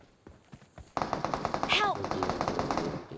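Automatic rifle fire in PUBG Mobile: faint scattered shots, then a steady rapid string of loud close rounds running to the end, with someone talking over it.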